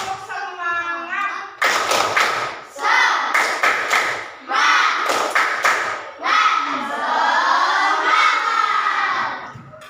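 Children in a classroom doing a rhythmic 'tepuk semangat' chant, sharp bursts of group clapping in a patterned beat interleaved with loud shouted singing voices, close and energetic.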